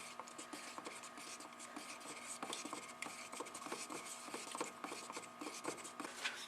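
Car paint being stirred in a container, a steady close scraping and rubbing with repeated rasping strokes, continuous throughout without talk.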